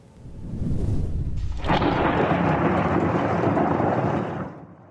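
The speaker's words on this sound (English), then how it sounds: "What's called thunder snow, rocking Utahns out of their sleep." Thunder during a snowstorm in Weber County, Utah: one long, loud, deep rumble that builds, holds for several seconds and fades away, with no talking.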